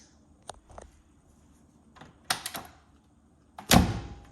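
Rear door of a 1971 Mercedes-Benz 250 W114 being handled, with a few light clicks and knocks followed by a louder latch clunk near the end, close by and with no talk.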